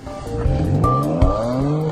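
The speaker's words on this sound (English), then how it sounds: "it really is a loud screeching noise of tyres and engines" Boy racer cars in a seaside car park at Cleethorpes, tyres screeching in a loud sustained squeal over revving engines, close and harsh for the whole burst.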